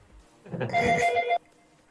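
A telephone rings indoors in one bright, warbling burst of about a second, standing out clearly from a quiet background with no talking.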